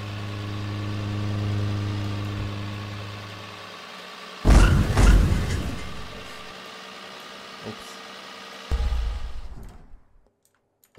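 A car engine in the video game Streamer Life Simulator hums steadily at idle, then cuts out, followed by a few louder clunking bursts and then near silence.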